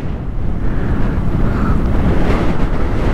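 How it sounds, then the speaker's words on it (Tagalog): Strong wind roars steadily and loudly across the microphone on a hilltop at Tinawagan Hill, Baao, Camarines Sur, a constant heavy buffeting rush with no pauses. "Napakalakas ng hangin."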